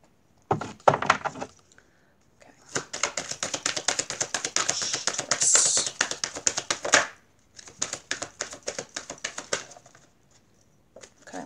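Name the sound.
shuffling a deck of cards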